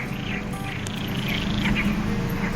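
Frogs croak in a dense, continuous chorus in the Rif Mountains of Morocco, mixed with faint chirps and insect-like trills in an open night setting.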